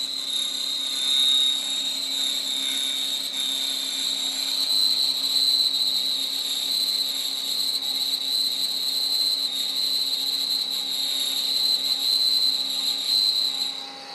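A milling machine takes a roughing pass while squaring a metal block, giving a steady, sustained high-pitched whine with a low hum beneath, constant and close for fourteen seconds with no voices.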